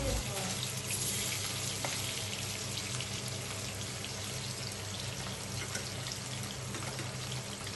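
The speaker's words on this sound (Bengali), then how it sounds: "গরম তেলের মধ্যে মচমচ করে ভাজা হচ্ছে ইলিশ" Padma hilsa frying crisply in hot oil, a dense, continuous hissing sizzle that holds at an even level for several seconds, close and loud.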